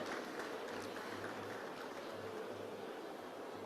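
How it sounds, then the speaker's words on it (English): A huge stadium crowd at a 2024 NPP manifesto launch keeps up a dense, distant wash of applause, a steady roar with no single claps standing out. "I think a round of applause will do."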